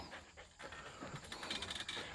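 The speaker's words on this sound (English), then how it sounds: "This is Boomer, the livestock guardian dog, a Bernese mountain dog" Bernese mountain dog puppy, a 12-week-old male livestock guardian, panting steadily in quick close breaths, faint and alone.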